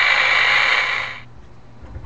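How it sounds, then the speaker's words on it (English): A 1/15-scale Back to the Future DeLorean toy's tinny driving and peel-out sound effect revs in a short buzzy burst, then cuts off abruptly into near silence. "Driving and peel out."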